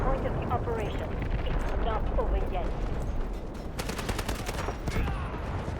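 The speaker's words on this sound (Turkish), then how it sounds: "Bomba geliyor bomba geliyor." Gunfire and blasts in the video game Delta Force, with dense rattling bursts and heavy rumbling booms that go on throughout. People talk over the fighting.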